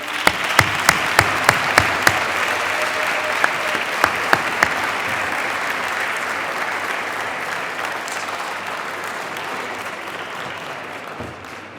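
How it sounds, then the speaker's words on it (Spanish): A seated audience at a science contest presentation applauds for a long stretch, a dense steady patter of many hands with a few sharp louder claps near the start, fairly close and loud, with no talk over it. "un merescut i fort aplaudiment per a ell"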